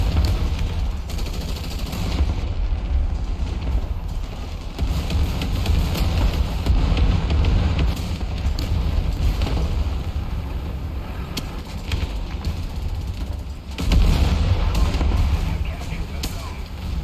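Artillery strikes in War Thunder tank combat land as heavy low booms and rumbling blasts over ongoing battle noise, several impacts spread across the stretch, with a voice talking at times.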